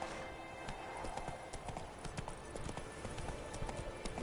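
Hooves of Roach, Geralt's horse in The Witcher 3: Wild Hunt, clip-clop in a rapid galloping rhythm over steady outdoor ambience, close and fairly loud throughout.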